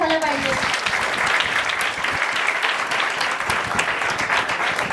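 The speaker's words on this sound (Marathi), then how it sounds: "त्यांच्यासाठी जोरदार टाळ्या झाल्या पाहिजे." Loud applause from a crowd of children at a summer values camp, a dense, steady clapping that fills the whole stretch at close range.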